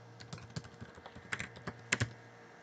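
A password being typed on a computer keyboard, a quick irregular run of close, crisp key clicks with a couple of louder taps near the end.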